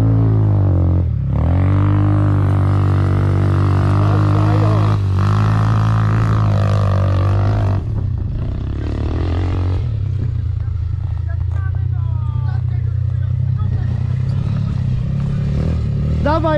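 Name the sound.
pit bike engine revving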